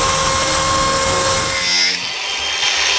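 A power tool runs steadily and loudly, probably cutting open plastic Copic markers in a workshop, its broadband whine dropping slightly partway through and then continuing alone.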